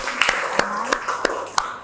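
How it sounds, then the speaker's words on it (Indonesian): A classroom gives a brief round of applause for a student, about five rhythmic claps under ongoing talk. "Oke, tepuk tangan buat Syahid dong."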